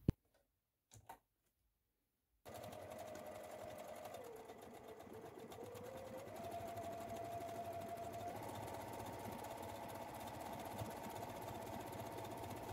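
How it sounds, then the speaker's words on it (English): After a few faint clicks and a short silence, a sewing machine starts stitching a buttonhole on a machine-embroidered drawstring pouch, running as a steady, even, mechanical whirr with rapid needle ticking that shifts slightly in tone partway through. "The machine will automatically stop when the buttonhole is finished"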